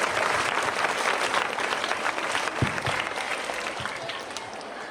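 An audience at a Rotary women's day event on menstrual hygiene applauds to welcome a speaker to the stage, with steady, full clapping from a crowd that slowly fades a little.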